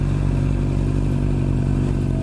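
Motorcycles and cars at a drag race event in Piracicaba, heard as a loud, continuous, rumbling engine drone with rattling clatter, close by and steady throughout.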